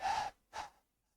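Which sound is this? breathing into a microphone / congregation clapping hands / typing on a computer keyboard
breathing into a microphone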